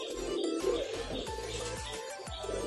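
A pet pigeon being treated for a breathing problem coos softly in low, repeated rolling notes close by, with faint chirps and small rustles around it.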